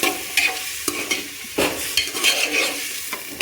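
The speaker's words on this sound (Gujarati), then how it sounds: "હવે લીલા મરચાં ને બધું મિક્સ કરી દઈશું" Green chillies and potatoes for Gujarati khichdi are stirred in a pot, with irregular scraping and clinking strokes over a low sizzle, close and fairly loud, with no voices.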